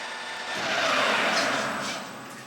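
A lathe facing a bar with a 0.8 mm nose radius polished carbide insert at 1000 RPM: a steady, close hiss of cutting that swells briefly in the middle and then eases, with no talk.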